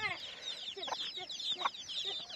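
Hens cluck in soft, rapid bursts at a shepherd's camp, faint and somewhat distant.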